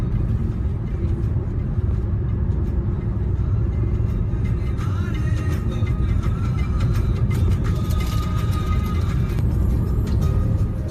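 A car cruising at about 100 km/h on the Samruddhi expressway at night, a steady, loud low road rumble with tyre and wind noise, constant throughout and unaccompanied by speech.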